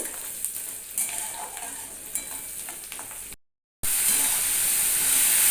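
Chopped onion fries in oil with nigella seeds, a loud, close, continuous sizzle and hiss with scraping stirs, briefly cut to silence before the sizzle resumes even louder.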